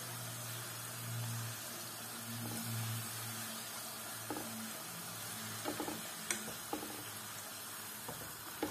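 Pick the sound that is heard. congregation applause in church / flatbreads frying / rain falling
flatbreads frying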